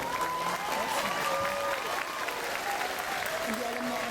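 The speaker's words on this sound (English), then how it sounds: "give them a big round of applause" An audience at a middle school graduation breaks into sustained applause, dense clapping that fills the hall steadily, with voices and cheers mixed in throughout.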